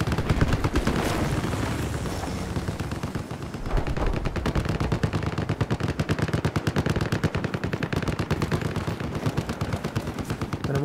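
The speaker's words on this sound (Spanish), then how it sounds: "Están disparando para acá." Sustained automatic gunfire from Battlefield 4 combat, loud and dense, with rapid rhythmic bursts running almost unbroken over heavier booms.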